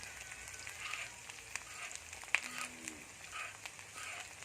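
Field rat stir-roasting in a pan over medium heat, a steady soft sizzle and crackle with occasional sharp pops and scraping stirs, fairly quiet and continuous.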